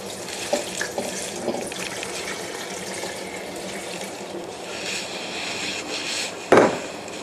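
Water, 1.5 litres, is poured from a tap-like stream into a cooking pot holding grapefruit for marmalade, a steady close splashing and trickling with a few knocks and a sharp clunk near the end.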